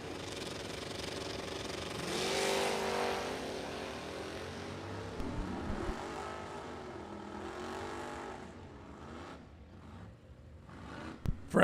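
An orange 1982 Mustang with a 468 cubic inch engine makes a drag race run, a loud sustained engine roar with rising and falling pitch that swells early, holds, then fades, ending in a few sharp bangs.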